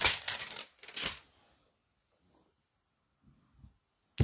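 A small sheet of paper is handled up close while making a card background, giving two bursts of crisp crinkling and rustling, then near silence with a few faint taps.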